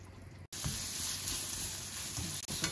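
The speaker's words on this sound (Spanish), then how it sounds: "vamos a sofreír el pimiento, la cebolla. Y ahora le echaremos champiñón y calabacín." Pepper, onion, mushroom, zucchini and chicken sautéing in a pan, with a steady close hiss and crackle and a few soft stirring knocks, going on without a break apart from two brief dropouts.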